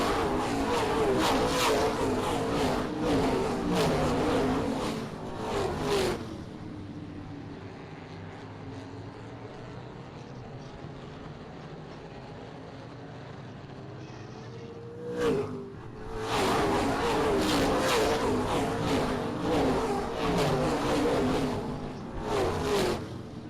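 Race cars roar past at a short-track oval, Springport Motor Speedway, in loud broadband engine bursts up to about six seconds, then a quieter lull with a distant drone and a brief passing, before another loud pack thunders by near the end.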